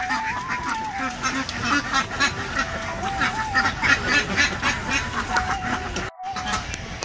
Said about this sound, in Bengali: বেলজিয়াম হাঁস।